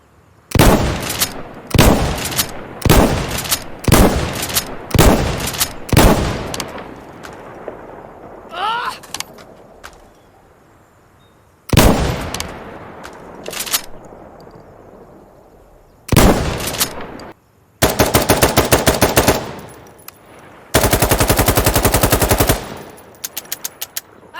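Gunfire from the shooter game Insurgency: Sandstorm comes in loud bursts of automatic fire and single sharp shots, separated by quieter stretches and a few distant reports, with the last volleys long and dense.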